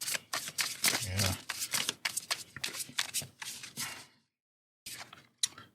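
A tarot card deck being shuffled, with dense rapid riffling and flicking bursts for about four seconds, a short pause, then a few more close, crisp card snaps.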